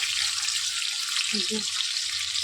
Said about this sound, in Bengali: এখানে ক্যাপসিকামগুলো দিয়ে দিচ্ছি, এবার ক্যাপসিকামগুলো একটু নাড়াচাড়া করে পরে